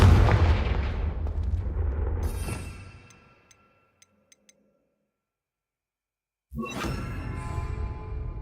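A Confringo blasting spell explodes in Hogwarts Legacy, a loud booming blast with a long rumbling decay that fades to near silence with a few small tinkling chimes, then another heavy burst erupts suddenly near the end.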